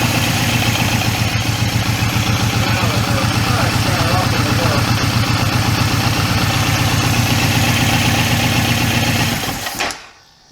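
A Suzuki M109R (VZR1800) motorcycle engine idles steadily right after a throttle body synchronization, a close, loud, even low rumble with a regular pulsing beat that runs unbroken for about ten seconds before cutting off abruptly.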